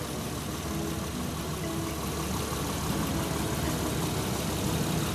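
A Honda Elysion Prestige with a 3.5-litre VTEC V6 idles close by, giving a steady, even hum with a broad mechanical hiss and no change in revs. No one speaks.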